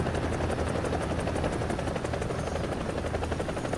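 A helicopter in the War Thunder video game, played on PlayStation, gives a steady rotor thrum with rapid rhythmic chopping throughout, heard alone with no talk.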